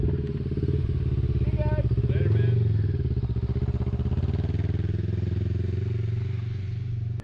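An adventure motorcycle ridden along the Oregon Back Country Discovery Route, its engine droning loud and steady throughout with rhythmic mechanical clatter and a brief rise in revs, heard alone without talk.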